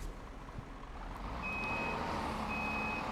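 Steady electronic reversing beeps from a truck in Farming Simulator, repeating at an even pace over a low engine rumble, fairly close and continuous, with no talking.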